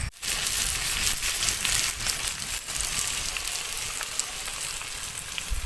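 Raw mango pieces fry in oil in a pan for a sweet-sour mango pickle, giving a steady, dense sizzle that holds close and even throughout, with no talking.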